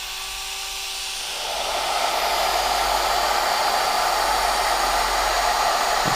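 A Shaper Origin handheld CNC router cutting gives a steady, loud high-pitched whine that rises in intensity after a second or so and then holds constant, close by.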